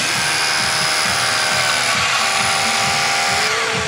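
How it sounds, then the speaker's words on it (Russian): A rotary hammer bores a hole into a building block at an outdoor children's festival, giving a continuous loud grinding drone with a steady, rapid hammering pulse beneath it throughout. "Чтобы пробурить отверстие в блоке перфоратором"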